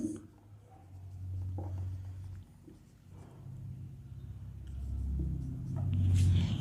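A pen scratches across paper while someone fills in a commission entry on a partnership appropriation account worksheet. The strokes are faint and intermittent over a low, steady room rumble.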